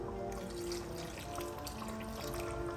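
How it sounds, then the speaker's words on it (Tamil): Water trickles and pours softly at a low level for a few seconds, a thin continuous stream with faint background hum. "கொஞ்சமாக தண்ணி போட்டிருக்கேன்"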